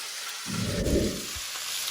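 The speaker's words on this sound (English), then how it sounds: "I'm actually going to add some more flavor by adding a big old chunk of butter in there" A big chunk of butter drops into a hot pan beside seared cod, the heat already off. It gives a brief, close burst of sizzling that swells and fades within about a second, with no talk over it.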